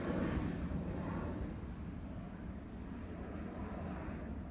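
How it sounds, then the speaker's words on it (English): Airbus A330 jet engines at Schiphol Amsterdam: a steady, loud broadband roar with low rumble, sustained throughout like an aircraft passing close, with some wind buffeting on the microphone. "For a small moment I was confused, but as you can hear, it's an A330."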